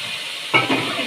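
Boiled taro and potato with salt and turmeric stirred in a pan, a steady background hiss broken halfway through by a sudden close scrape and sizzle of the spoon moving the pieces.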